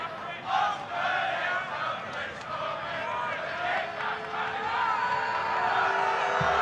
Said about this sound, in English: And we can hear the two crowds going at each other.